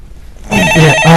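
Telephone ringing on a Korean stock-market call-in show: after a brief quiet start, a loud electronic ringtone sounds up close in a repeating warbling pattern.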